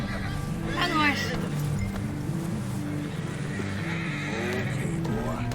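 A horse in Red Dead Redemption 2 whinnies repeatedly over a steady patter of galloping hooves, close and clear, with someone talking across it.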